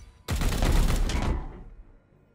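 A single sustained burst of heavy automatic gunfire in the Warhammer 40000: Chaos Gate - Daemonhunters game, loud and dense for about a second before decaying into a fading rumble.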